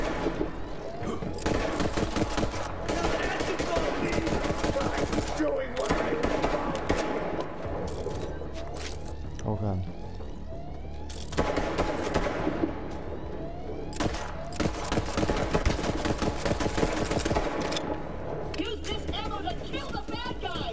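Bursts of automatic gunfire in the shooter game Borderlands 3, dense rapid volleys with brief pauses between, loud and close, while a player talks over the shooting.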